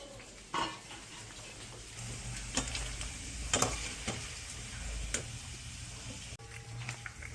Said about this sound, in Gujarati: થોડીક એને વેફર્સ જે બટેટાની બનાવેલી છે તળી દઈ